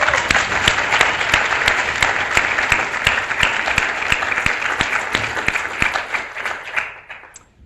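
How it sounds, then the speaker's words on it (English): Sustained audience applause, many hands clapping steadily and loudly before fading out at the end. "Dean Bloom deserves a round of applause right now for that"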